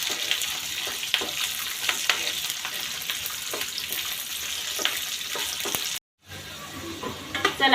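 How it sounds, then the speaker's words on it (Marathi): Garlic cloves fry in oil in a wok, giving a steady, close crackling sizzle with occasional sharper pops, briefly cut off near the end before the frying resumes. "कढईत थोडं तेल टाकून घेतलेले, त्यामध्ये आपण या सगळ्या पाकळ्या अशा फ्राय करून घेऊ।"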